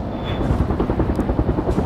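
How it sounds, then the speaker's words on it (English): Helicopter rotors thump in a fast, steady pulse as aircraft fly close overhead in World in Conflict, loud and continuous with a faint high whine briefly above them. "Friendly helicopters are moving in to assist you."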